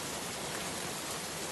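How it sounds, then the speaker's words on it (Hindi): Heavy rain pours down at night during a storm, a dense, steady hiss that stays loud and unbroken throughout with no distinct thunderclap. "अचानक से मौसम बदल जाता है और बिजली चमकने लगती है। जोर जोर से बारिश होने लगती है।"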